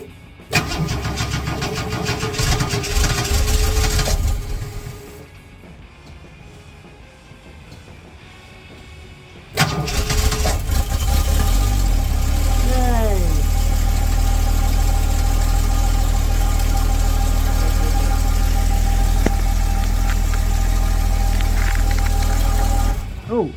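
A Holden VK Berlina barn-find car engine cranks and starts, then idles loudly with a rough, rattly drone from a hole in the exhaust, steady and near.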